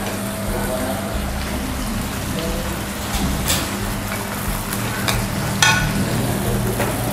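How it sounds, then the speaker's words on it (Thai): Crispy fried fish with sauce is stir-fried in a pan at a restaurant, giving a steady, close sizzle with occasional sharp scrapes and clatters from the spatula. "ตอนนี้ก็ผัดให้เข้ากันนะคะ"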